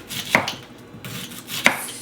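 A knife chops through a purple onion on a kitchen board during home cooking of avocado salsa, two sharp, close chops about a second apart with quiet pauses between.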